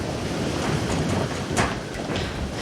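Steady broadband wash of ocean surf rolling on without break, with a faint whoosh of wind over it and a brief louder swell partway through; no voices.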